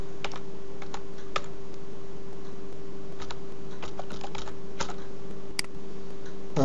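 Keys on a computer keyboard tap out a password in uneven bursts of sharp clicks, close and clear over a steady low electrical hum, with no talking.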